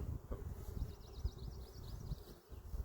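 Honeybees buzzing around an open hive, a steady, close, low drone of many wings with faint high flickers over it, no voices.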